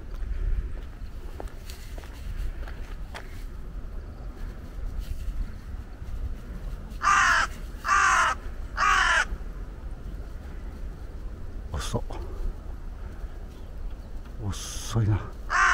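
Several loud caws from crows ring out in a quick series of three, then a few more later, outdoors over a low rumbling ground tremor.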